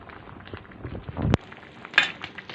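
Salmon sinigang broth boils in a cooking pot with a steady, close bubbling hiss, and a single sharp utensil clank sounds partway through.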